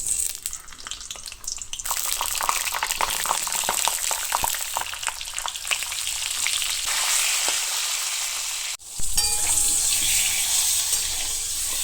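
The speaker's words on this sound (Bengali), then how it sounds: "এইখানে পটলগুলো এরপরে ভেজে নেব দিয়ে দেবো" Pointed gourd (potol) frying in a pan, a continuous close sizzle with light stirring scrapes, briefly dropping out near the end before the frying hiss returns; no one speaks.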